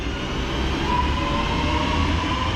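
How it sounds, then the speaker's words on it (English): West Midlands Railway train formed of two coupled Class 172 units, running from Birmingham New Street to Hereford, passes with a steady loud rumble of wheels and engines and a faint high whine riding over it. "a West Midlands Railway Service 2 Hereford from Birmingham New Street, formed of a couple of 172s"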